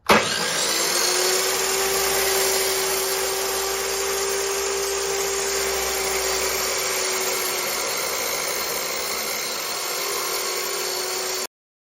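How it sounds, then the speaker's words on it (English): A power saw cuts natural thin stone veneer with a loud, steady high-pitched whine and grinding roar, running continuously close by before stopping abruptly. "now I'm going to turn the saw on and make this cut"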